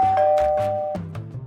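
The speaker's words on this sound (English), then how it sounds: "Let's talk about Imilab Smart Doorbell and see why it is so special." An Imilab smart video doorbell plays its chime: a short sequence of clear electronic ding-dong tones, close and alone, ringing on for about a second and a half.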